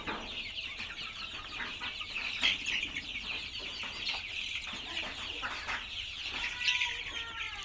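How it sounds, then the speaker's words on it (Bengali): Chickens cluck and chatter continuously as they run about pecking grain in a poultry shed, a dense busy flock sound with occasional louder squawks and wing flaps, no talking. "মুরগি এদিক ওদিক দৌড়ে দানা খাচ্ছে সে।"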